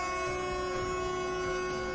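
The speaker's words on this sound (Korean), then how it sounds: "기관사들은 천성역을 출발할 때 기적소리를 높이 울립니다." A locomotive sounds its whistle as it pulls away from Cheonseong station, a sustained steady tone held for the full two seconds over a low rumble of rail traffic.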